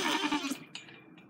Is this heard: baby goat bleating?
yes